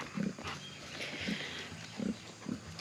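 Pig grunts in a movable pen on a small farm, a boar and feeder pigs nearby, come as four short low bursts spaced about a second apart over steady outdoor background noise.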